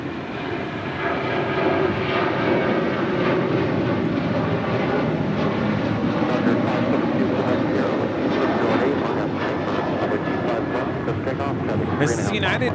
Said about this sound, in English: This is United 1278 departing to Cancun on a 737-900 ER.